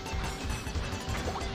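Blocks being smashed in the Super Mario 3D World video game, a steady run of dense crunching impacts over game background sound, with no talking.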